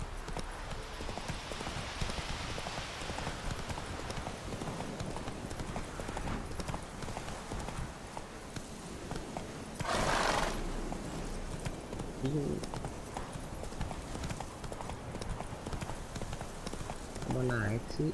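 Hooves of a horse in the Witcher 3 video game clip-clop in a continuous, quick rhythm for the whole stretch, with a louder whoosh midway and voices talking over the top.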